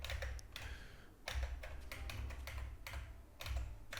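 Computer keyboard keys pressed in quick irregular bursts of clicks and taps, close and fairly quiet, with short pauses between runs of typing.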